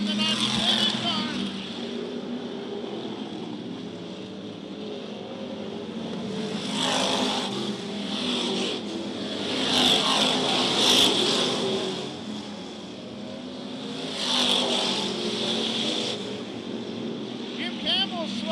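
Modified race cars run laps at Charleston Speedway, engines droning and surging past in waves at mid distance while a commentator talks steadily over the roar.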